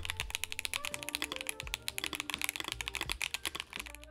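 Fast, steady typing on an Akko 5075B Plus ISO mechanical keyboard, a close, dense run of crisp key clacks and thocks with no talk.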